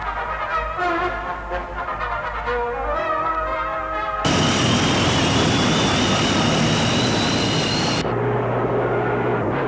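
Engines of a Tu-142 Bear, a long-range Soviet maritime aircraft, roar loudly and continuously, with a steady droning tone that shifts to a broader rushing roar midway.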